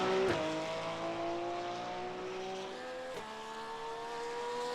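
Race car engine from iRacing at the Nürburgring, a steady high-pitched whine that holds its pitch and slides through two quick gear changes.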